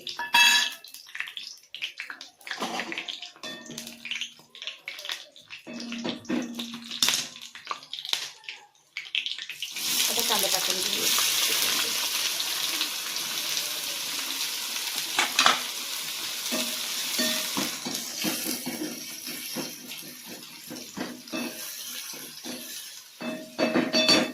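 Whole spices—bay leaf, cinnamon, green cardamom, cloves and black peppercorns—dropped into hot oil for stuffed bitter gourd, giving a close, steady sizzle that swells sharply partway through and continues over occasional stirring clinks.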